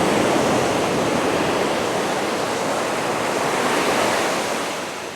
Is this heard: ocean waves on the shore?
yes